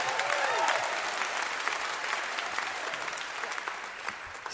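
Audience applause for the bass player at a live folk music radio show, steady broadband clapping from a crowd filling the whole stretch, slowly easing off toward the end with no talk over it.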